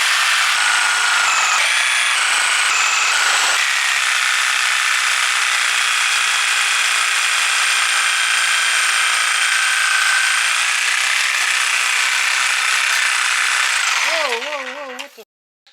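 A Sawzall reciprocating saw cuts through a steel suspension strut on a fab table for a RallyX Camaro, a loud steady buzzing drone that holds for about fourteen seconds before winding down to a stop.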